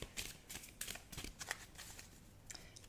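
Playing cards being shuffled at close range during a psychic reading, giving repeated crisp riffling bursts in an uneven rhythm that stay clear and unmasked by any voice.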